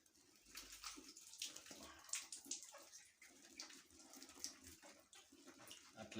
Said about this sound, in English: let us rinse with water and see how it looks like.